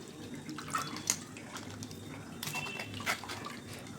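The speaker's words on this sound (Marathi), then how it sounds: "अगदी थोडंसं पाणी टाकायचं" A small splash of water poured over tamarind in a kitchen bowl, a brief close trickle and a few drips lasting a few seconds, with faint clinks of a vessel.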